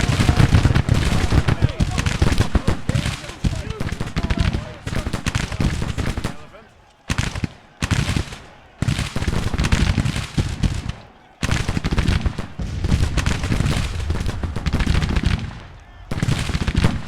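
Dense, rolling musket volleys and scattered gunfire across a Civil War battlefield, loud and nearly continuous with brief lulls, mixed with shouted voices.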